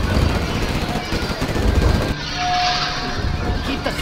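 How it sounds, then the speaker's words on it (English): A Gatling cannon fires in a Command and Conquer real-time strategy match as a rapid, dense rattle of shots for about two seconds, then a lighter sustained whir and game effects follow. "Gatling cannon is ready."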